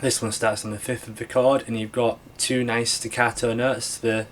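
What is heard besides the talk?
No distinct noise like a dog, phone or traffic.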